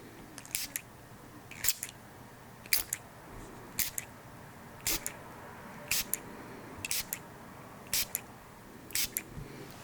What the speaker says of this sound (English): what I'm going to do is spray past and just kind of like waft it in after